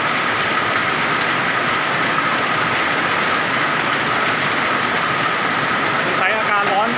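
A thick, continuous roar of hail and heavy rain beats down on a road in a hot-season storm at Kham Cha-i, Mukdahan, holding loud and even throughout, with a faint whistling tone near the end.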